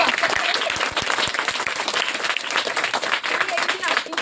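School students applaud on a terrace garden visit, a sustained burst of many hands clapping close by. A voice talks over the applause.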